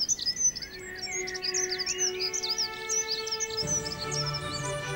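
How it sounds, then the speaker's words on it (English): Starlings and other birds sing through a spring evening, a dense chorus of bright chirps, whistles and trills running continuously near and far, with a low rumbling background growing louder toward the end. "The avian concert continues until late in the evening."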